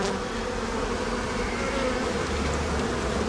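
Dense, continuous buzzing of many honey bees close by, a steady droning hum with no voices.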